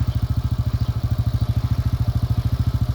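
The engine of an RKS Easy Pro 50cc motorcycle idles close by with a fast, perfectly even putter of low thumping pulses, steady and loud throughout, with no voices.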